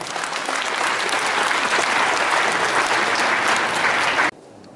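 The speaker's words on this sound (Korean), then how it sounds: "여러분 뜨거운 박수로 환영해 주십시오." Audience at a Korean party's provincial chapter founding convention applauds to welcome the newly accepted provincial chairman, a steady, dense wash of clapping that holds loud for about four seconds and then cuts off abruptly.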